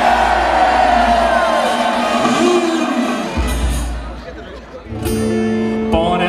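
A live audience at a theatre performance shouts and cheers loudly, with a voice speaking over the crowd before the noise dips and rises again in a burst of whoops.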